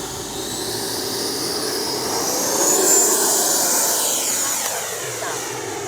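An FMS Avanti S 90mm RC jet takes off, its ducted fan giving a loud rising whine and rush that peaks as it passes close, then recedes with a shifting pitch.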